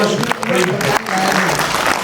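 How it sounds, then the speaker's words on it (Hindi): Audience applause at a mushaira poetry recital, a broad, steady wash of clapping from a crowd lasting a couple of seconds, with some voices mixed in. "भाई आप लोग तालियां बजाते हैं"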